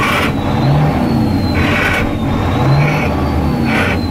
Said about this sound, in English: Comment below if you've done a burnout in a semi.